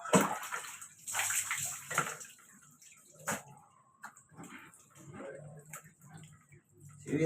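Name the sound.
water splashing while bathing dogs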